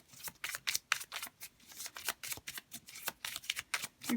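Tarot cards are shuffled in a quick run of crisp, papery riffles and slaps, around twenty short bursts in an uneven rhythm. The sound is close and moderately quiet, with no speech.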